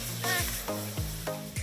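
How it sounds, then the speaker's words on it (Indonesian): Spice paste stir-frying in hot oil in a wok gives a continuous loud sizzle, broken by repeated scraping stirs of a spatula at a steady rhythm. "Tumis bumbu hingga harum."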